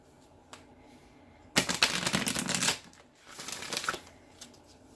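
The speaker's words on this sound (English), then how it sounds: "I'm going to go ahead and lay all my cards down" Tarot cards laid down on a table in two close bursts of quick flicking and sliding card sounds, separated by a short pause, with quiet room tone on either side.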